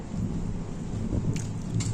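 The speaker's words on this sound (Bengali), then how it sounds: "মেঘ ডাকলো আকাশ বড় মেঘাচ্ছন্ন আকাশ মেঘলা বৃষ্টি হচ্ছে" Thunder rumbles low and steady through a rainy, overcast storm, with rainfall hissing throughout and no voices.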